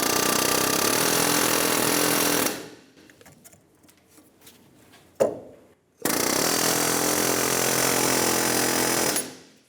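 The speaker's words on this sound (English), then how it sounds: "Using an air hammer with a chisel, we're going to twist the wheel bearing hub inside of the knuckle to break most of the tension" An air hammer with a chisel twists a wheel bearing hub inside the steering knuckle of a 2003-2007 Infiniti G35, rattling loud and continuous in two long bursts separated by a quieter pause with small knocks.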